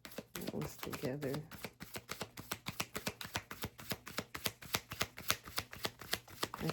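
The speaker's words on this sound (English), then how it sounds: "I try to shuffle so they're separated, but sometimes they're stuck together" A deck of cards is shuffled again and again, making a rapid run of crisp, evenly spaced riffling clicks close by and quiet, with soft talk in the first couple of seconds.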